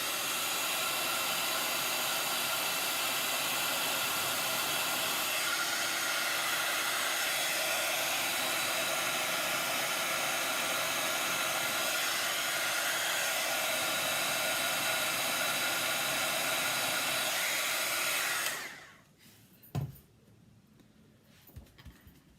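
A heat tool blasts a loud, steady roar of hot air for about eighteen seconds while warming a craft card embellishment, then cuts off, leaving a few faint handling clicks.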